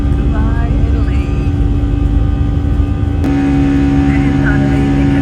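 A steady, loud engine drone fills the cabin of a small Electra propeller plane, a constant hum with no clear changes and faint background noise throughout.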